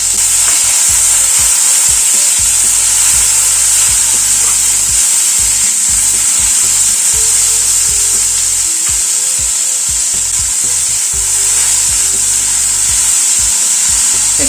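Bitter gourd and potato pieces fry steadily in oil in a pan on a gas stove, a continuous close sizzle broken by repeated scraping and stirring strokes throughout, with no talk.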